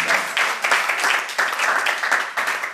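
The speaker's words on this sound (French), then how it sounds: "Applaudissements encore s'il vous plaît pour Madame Kwame." A TV studio audience on a French variety show applauds steadily, dense and fairly loud clapping with a few swells, heard on its own for nearly three seconds.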